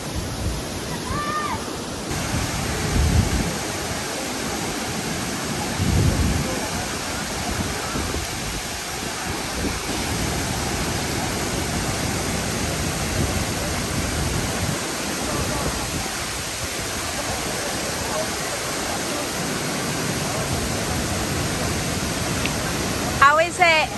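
The Tinuy-an Waterfall in Mindanao rushes as a dense, constant roar of falling water, broad and steady throughout with a few brief dips, while people talk faintly beneath it.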